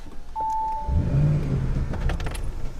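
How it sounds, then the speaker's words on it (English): A 600-horsepower Audi RS7 starting up after a brief electronic chime, the engine catching with a low gurgling rumble that settles into a steady idle, close and fairly loud. "You hear a little bit of a gurgle as it turns on."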